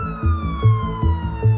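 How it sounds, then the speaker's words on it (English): A wailing ambulance siren rises and falls in a steady cycle, loud and close, with no voices over it. "closely followed by an ambulance."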